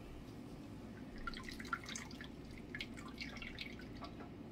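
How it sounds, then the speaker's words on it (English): Coconut milk drips steadily from grated coconut being squeezed by hand for coconut rice, a soft continuous patter of liquid with small splashes, close up and with no talk. "Then squeeze it. Squeeze it. And then your coconut milk is ready for the coconut rice."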